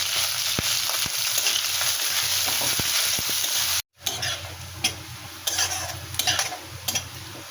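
Onion, green chili, bay leaf and panch phoron fry in a pan for a Bengali dal, with a continuous loud sizzle, a brief dropout partway through, then scraping stirs and light utensil clinks.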